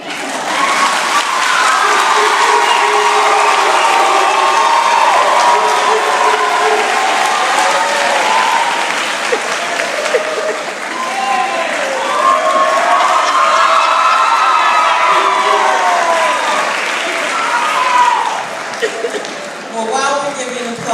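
A graduation audience at West End Academy in Atlanta, Georgia, claps and cheers loudly and steadily for about twenty seconds, with whoops and shouts rising out of the dense, continuous applause.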